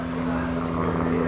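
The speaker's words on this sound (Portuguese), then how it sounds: "Ô, avião! Avião!" A propeller airplane drones steadily overhead, a low continuous hum with no break.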